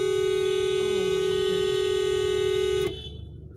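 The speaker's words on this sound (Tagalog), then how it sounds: "Sige, busina mo." One long, loud, steady car horn blast held for about three seconds, then cut off abruptly, leaving quiet background.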